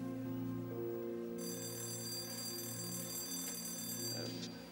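A school bell or alarm rings steadily with a sustained electric tone, holding for several seconds before cutting off near the end.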